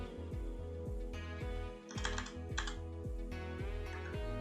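Steady rapid keystrokes on a computer keyboard while text is entered, clicking along evenly and fairly close against a constant tonal hum in the background, with no talking.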